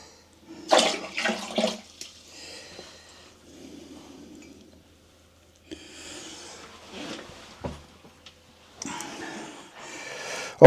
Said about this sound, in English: I'm draining the water out the system into a cup